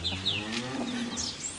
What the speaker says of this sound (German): Das sind ja Kühe.